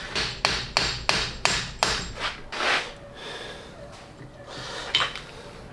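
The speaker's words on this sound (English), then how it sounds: "I may have to tap this one out" Hammer taps driving a seized U-joint cap out of an off-road vehicle's driveshaft: about eight sharp metallic blows in a quick even rhythm, then a few scattered lighter knocks and a heavy breath, all close by.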